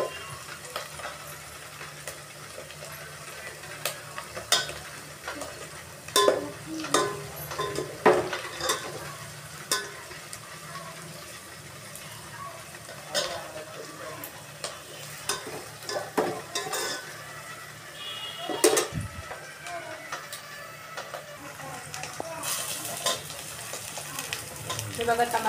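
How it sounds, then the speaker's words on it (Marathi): Onion and garlic sautéing in a pan for sambar, a steady close sizzle with frequent spatula scrapes and stirring clatter throughout. "बघा, आपला कांदा आणि लसूण मस्त परतत आलेला आहे."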